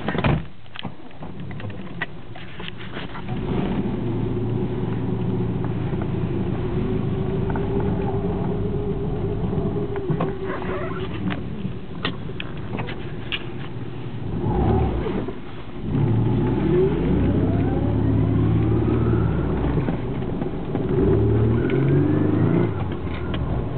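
A 1985 Nissan 300ZX Turbo automatic driving on wet roads in the rain, its engine droning steadily from inside the cabin with a brief lull midway before the motor pulls again under tire hiss.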